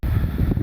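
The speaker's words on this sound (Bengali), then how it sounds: "পূর্ব দিক থেকে বাতাস আসতেছে" An east wind gusts across open water-lily fields, a short, loud, low buffeting rumble against the microphone.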